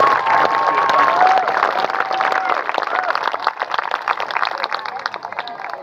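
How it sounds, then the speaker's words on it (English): An outdoor crowd at a Roman gladiator show applauds a volunteer, moderately loud clapping with some cheering that gradually thins into scattered claps. "for our volunteer here, Davardus, please give him a massive round of applause."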